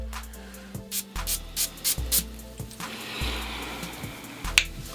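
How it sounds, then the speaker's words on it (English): Several short hissing sprays of a Lattafa Glacier Bold perfume atomizer, close up, over a low repeating background beat. "let's go ahead and spray Lattafa's Glacier Bold"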